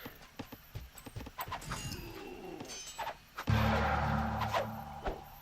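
Horse hooves clip-clopping in a strategy video game, with rapid rhythmic hoofbeats and a whinny, joined by a loud sustained game sound in the second half, close and clear with no talking.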